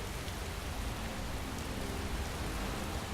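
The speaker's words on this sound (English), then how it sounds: "Oh, it's raining." Steady rain in the video game Skyrim hisses evenly throughout, a soft continuous patter with no voices or other sounds.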